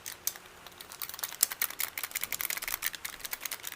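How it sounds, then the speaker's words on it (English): Rapid plastic clicking of game controller buttons being spammed during a Gorilla Tag session, a fast irregular run of sharp close taps with no talking. "You probably hear my controller spamming"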